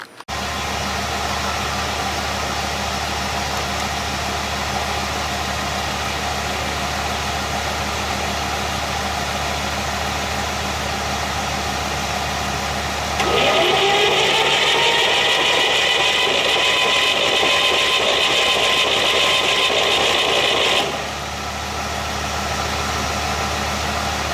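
A Chevrolet Corvair engine, oiled down the cylinders with its spark plugs out, cranks over on the starter with a loud, steady whirring that rises for several seconds and then stops, against a constant mechanical hum.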